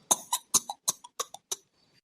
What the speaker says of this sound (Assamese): বাহিৰত কোনে কাহি আছে জানো ইমান বেয়াকে কাহি আছে বাহিৰত